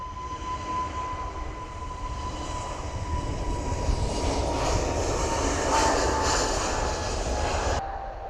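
Airliner taking off from a runway, a broad jet engine roar with a steady whine that swells in loudness and then drops off sharply at the end, heard from a distance with no talking.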